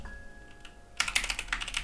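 Computer keyboard typing during an Arch Linux install, starting abruptly after a second of near-silence with a quick run of close, distinct key clicks alone.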